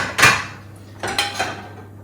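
Clean plates clatter and clink as they are lifted from a home dishwasher and stacked, a sharp ceramic knock followed by a quicker cluster of lighter clinks, close and with no talking.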